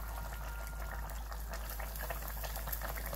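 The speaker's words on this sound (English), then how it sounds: "let the gravy boil a little bit and then our chicken is ready" Chicken gravy boiling in a pot on the stove, a steady low bubbling with a constant hum underneath, heard close and without speech.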